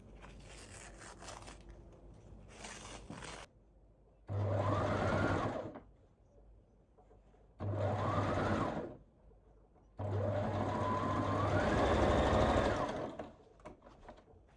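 A sewing machine stitches two flat corset pieces together in three separate runs, each a steady, close mechanical whir lasting a second or more, with the last run the longest, separated by short pauses and faint handling.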